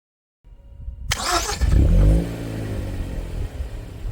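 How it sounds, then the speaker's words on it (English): A Hyundai Veloster N engine, started by remote starter, cranks and fires up after a brief quiet pause, revving loudly for a moment before settling into a steady idle nearby. "Your lights will begin to flash 4 times, and then your car will start."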